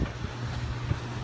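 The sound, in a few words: wind blowing outdoors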